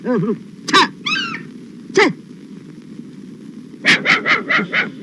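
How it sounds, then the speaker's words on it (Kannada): A nearby dog barks in short bursts: a couple of single barks, then a rapid string of four or five barks close together. "ಆ ನಾಯಿ ಓಡಿಸಿ"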